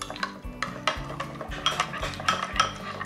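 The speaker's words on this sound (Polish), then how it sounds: "I wszystko mieszamy." A spoon stirs a garlic-style sauce with added tabasco in a bowl, making quick, close, rhythmic clinks and scrapes with no voices.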